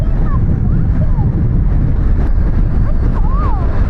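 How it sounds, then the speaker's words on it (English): Strong gusts buffet the microphone outdoors on a stormy day, a steady low roar with no letup, while a voice is faintly heard underneath. "Yeah, it's super windy."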